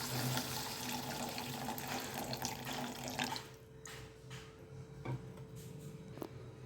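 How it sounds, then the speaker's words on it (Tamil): Tamarind water pours into a pot of simmering sambar, a steady close splashing stream lasting about three seconds, then fading to quieter liquid sounds with a couple of soft clinks. "இந்த டைமில் நம்ம புளி தண்ணியை சேர்த்துக்கலாம்."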